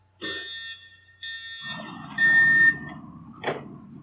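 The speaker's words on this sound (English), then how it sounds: "recognize the sound of your building's evacuation alarm so you can react quickly when you hear it" A building alarm sounds in loud electronic tones, starting and stopping in bursts, with some movement noise around it.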